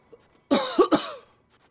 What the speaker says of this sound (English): I'm so sorry for that cough.